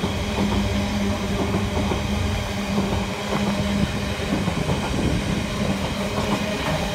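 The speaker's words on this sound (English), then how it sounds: "it's class 6671, Harry Beck, in the London Transport White Livery" Class 66 diesel locomotive 66771 Harry Beck in London Transport white livery rolling past, a steady rumbling drone with rhythmic wheel clatter over rail joints throughout.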